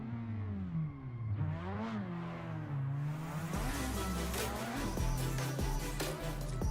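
Several drift cars running bumper to bumper through the zones of a qualifying round in Pittsburgh, engines revving and wailing with rising and falling pitch and some clatter, loud and continuous.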